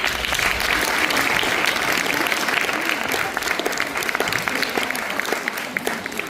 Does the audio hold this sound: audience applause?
yes